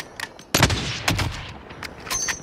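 Rapid gunfire cracks through a multiplayer video game shootout, with a loud burst near the start followed by several more scattered shots and bursts over a continuous background din.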